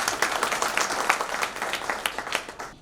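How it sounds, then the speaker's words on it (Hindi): A seated audience at a product presentation claps, a moderately quiet, uneven patter of many hands with distinct sharper claps popping out across the few seconds. "अब चाहें तो तालियां बजा सकते हैं।"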